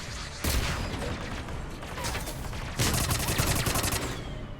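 Sustained automatic gunfire crackles through a Mass Effect 3 firefight against geth, rapid rattling bursts from two directions with a louder, faster volley near the end.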